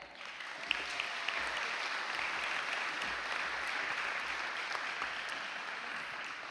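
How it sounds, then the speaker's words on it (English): Audience applause at a high school honor society induction ceremony, steady sustained clapping from a crowd in a large room, moderately distant and even throughout. "how about a round of applause for Jesus Garza?"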